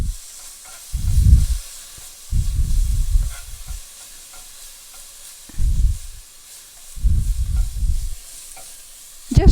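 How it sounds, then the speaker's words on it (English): Garlic and ginger being sautéed in a pan for tomato fried eggplant, four loud bursts of stirring and sizzling separated by quiet gaps, close and without talk. "Saute it a little bit."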